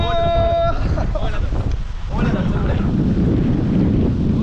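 Strong stormy wind on the Padma River at Rajbari, Bangladesh, roars and buffets the microphone, steady and loud, with a brief voice near the start.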